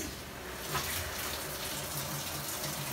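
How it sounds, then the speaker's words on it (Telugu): A Whirlpool top-load washing machine draws in water after being started on a quick wash mode, giving a steady, soft rushing gush of inflowing water that keeps on evenly throughout, with no voices. "ఇప్పుడు మెషిన్ అయితే ఆన్ అయింది, వాటర్ అనేది తీసుకుంటుంది."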